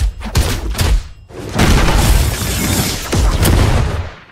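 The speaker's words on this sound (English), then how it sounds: "this one, basically, it's down slam and the machine gun blows" Heavy game impacts from Genos' down slam and rapid machine gun blows in The Strongest Battlegrounds: loud booming thuds, then a sustained dense barrage of crunching hits lasting several seconds.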